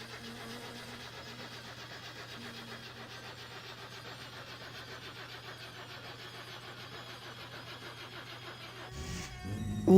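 Satsuma car engine in the video game My Summer Car cranking over and idling with a steady low hum, rising into a louder burst as it catches near the end.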